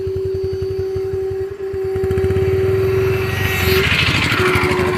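A motor vehicle engine runs close by with a loud, steady hum that pulses evenly throughout and swells slightly in the second half.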